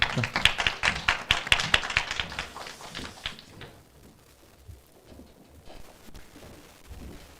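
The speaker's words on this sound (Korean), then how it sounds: "여러분 박수 크게 쳐주면서" A church congregation claps loudly during a Sabbath worship service, a dense burst of many hands that fades out after a few seconds into quiet room noise.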